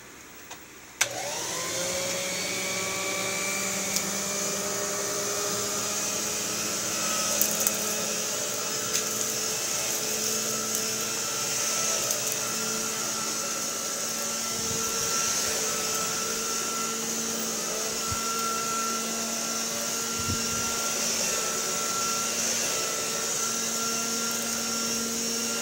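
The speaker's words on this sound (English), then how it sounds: "Let's go ahead and start it up and do a little bit of vacuuming." A 1960 Electrolux Automatic Model G vacuum cleaner switches on and keeps running with a steady, loud motor whine and hum for the whole stretch, with no talking. Its bag may be full and it has an electrical fault.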